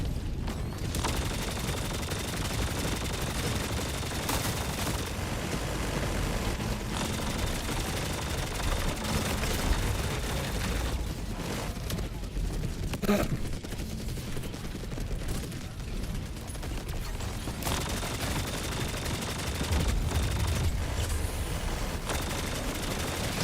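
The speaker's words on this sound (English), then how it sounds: "But they're really useful and very cool assault rifle." Assault rifle fire in a video game, bursting and rattling almost nonstop at a loud, steady level with dense overlapping shots and no voices.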